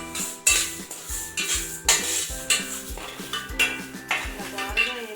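Dry ingredients for a kashayam herbal drink are lightly roasted in a pan, a spoon scraping and clinking against the metal in quick repeated strokes over a soft sizzle.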